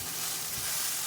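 Food browning in a pan gives a steady, close sizzle with faint stirring, heard alone without talk.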